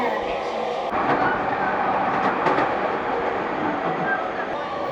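Steady rumbling roar of a late-night Japanese commuter train near Shin-Koiwa rushing past at close range, with rattling and a rising hiss of wheels on rails throughout.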